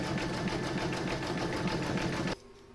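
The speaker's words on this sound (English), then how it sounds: "I'm going to pop that into my machine and stitch round number 10, and that's going to zigzag these two pieces together" An embroidery machine zigzag stitches a table topper in a steady, loud, rapid mechanical chatter that runs continuously, then stops abruptly, leaving a faint hum.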